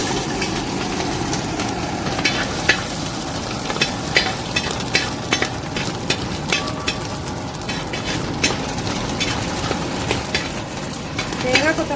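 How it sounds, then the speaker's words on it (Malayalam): Steady crackling sizzle of chopped coconut pieces frying in hot oil, with occasional sharper pops and a faint voice speaking in the background. "നമുക്ക് കുറച്ച് തേങ്ങ കൊത്തി വറുത്തെടുക്കാം"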